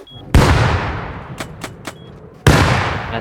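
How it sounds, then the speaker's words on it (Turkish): Two loud bomb explosions in a survival video game during a duo clan base raid, each a sharp blast that booms and decays slowly, with a few brief crack-like hits in between, close and loud with no talk. "Bomba geldi lan."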